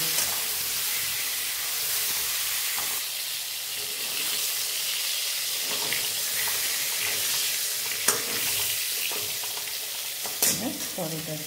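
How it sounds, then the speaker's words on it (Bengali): Potol (pointed gourd) fries with salt and turmeric in a pan, a constant bright sizzle with occasional stirring scrapes and a couple of sharp clinks near the end, no voices. "একটু নুন হলুদ দিয়ে এটাকে একটু লাল করে ভেজে নেব।"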